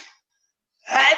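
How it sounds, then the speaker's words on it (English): A single short, sharp sneeze bursts out near the end after a moment of silence, close and loud, following a brief trailing bit of a man's speech. "Hold on one second, I have to sneeze."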